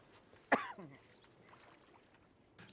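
One sharp cough from a character in the Red Dead Redemption 2 roleplay game, loud and close against a low, steady ambient background, trailing off into a quieter breathy tail.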